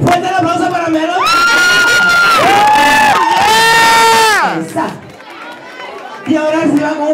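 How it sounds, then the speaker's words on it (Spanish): Nightclub crowd cheering and whooping for a guest at a Latin night party, loud and sustained, with singing-like voices and music-like tones over dense crowd noise, fading near the end before a burst returns. "Fuerte el aplauso para Melody."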